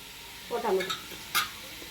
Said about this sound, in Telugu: నూనె పీతలు ఇందా కలిపాను కదా మసాలా అందులో వేసారు